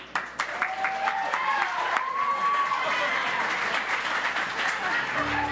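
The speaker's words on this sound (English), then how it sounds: "come on up. Big round of applause." A crowd claps for a volunteer walking onto the stage at a live musical show, with a few sharp claps up front giving way to sustained applause while a host speaks over it.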